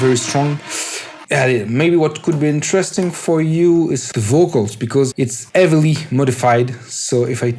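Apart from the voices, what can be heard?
No everyday noises stand out.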